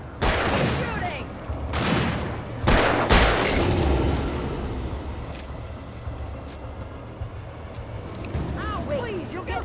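Gunfire in the video game Alan Wake, several loud sharp bursts in the first few seconds followed by a long rumbling tail, with a voice partly audible under the clatter.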